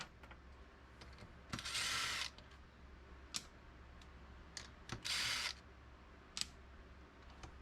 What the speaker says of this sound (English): So I got the big boy out, the big 1/2 inch impact, and loosen these all up.